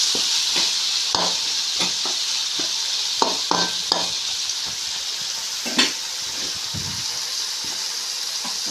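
Chopped tomatoes cooking in a pan for an ugani breakfast dish, a steady soft sizzle punctuated by intermittent spoon strokes and stirring knocks.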